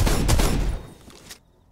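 A G3A3 battle rifle in Phantom Forces fires a quick burst of loud, close shots that cut off sharply, followed by a brief fading tail.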